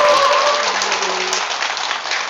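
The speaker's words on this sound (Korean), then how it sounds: "오늘 이 자리 여러분들 영상 찍고 배음 놓고 한 이 젊은 친구들한테도 박수 한번 부탁드리겠습니다" Audience at a poetry recital claps steadily and loudly, thinning slightly toward the end, with a faint tonal sound over the opening moments.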